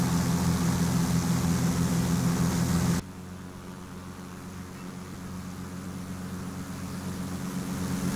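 An airplane engine on takeoff in a flight simulator game makes a loud, steady droning hum that abruptly drops to a quieter level, then slowly swells again, with no talk.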